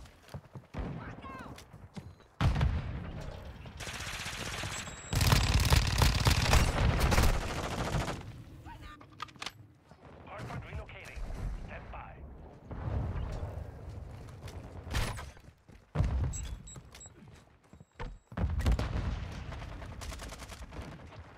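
Fennec 45 submachine gun fire in Call of Duty: Modern Warfare II comes as rapid automatic bursts, loud and close, broken by pauses and game effects, with a player talking between the volleys.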